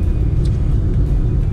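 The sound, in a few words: oncoming car passing on the road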